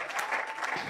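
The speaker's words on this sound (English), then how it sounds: "Let's clap for them." Brief burst of dense audience clapping at a development partners' gathering and closing event, steady and moderately loud, with faint voices mixed in.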